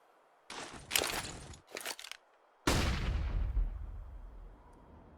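Gunfire in the video game Counter-Strike during a pro match between Astralis and G2: a couple of short bursts of shots, then a loud blast that fades out over a few seconds.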